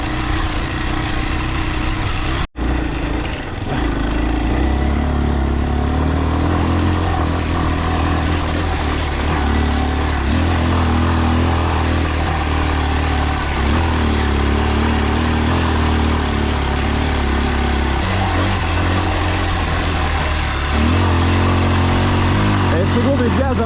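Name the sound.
off-road motorbike engine accelerating in second gear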